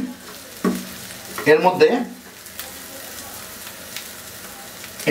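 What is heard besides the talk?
chicken and cauliflower pieces frying in a pan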